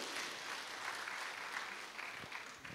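A church congregation at a Kikuyu service breaks into steady, enveloping applause, a continuous wash of many hands clapping that fades slightly toward the end.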